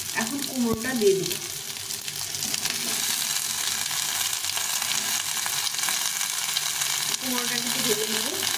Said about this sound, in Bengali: কুমড়োটা কিন্তু ভেজে নেব